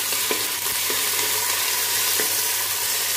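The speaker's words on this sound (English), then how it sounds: "Now we add curry leaves." Curry leaves fry in oil in a clay pot while cooking fish curry, giving a steady, loud, close sizzle with a few sharp crackles and pops and no voices.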